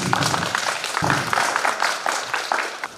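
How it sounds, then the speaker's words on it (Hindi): An audience at a retirement program applauds loudly, with sustained overlapping claps throughout and a few sharper individual claps standing out. "तालियां।"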